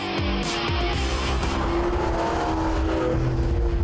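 A Porsche Cayman GT4 with a naturally aspirated six-cylinder engine and six-speed manual runs on a track, its engine droning loud and close with rising revs and a brief tire squeal, no voices.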